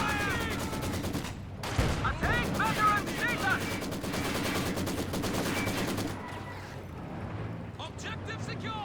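A Maxim machine gun fires in Company of Heroes 2, with rapid rattling bursts over a busy battle mix of other gunfire and impacts, loud and dense throughout, with a voice speaking over it.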